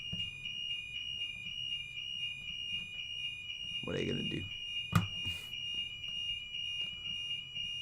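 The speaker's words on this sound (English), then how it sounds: "That is a fire alarm." A fire alarm sounds during a drill, a steady high electronic tone running continuously throughout, with people talking briefly over it.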